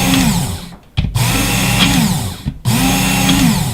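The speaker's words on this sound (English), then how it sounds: "this fine grit belt is basically stropping the knife" A Work Sharp belt sharpener hums steadily as a knife is stropped on its fine grit belt, with three brief dips where the blade comes off and the motor note shifts, loud and close with no talk.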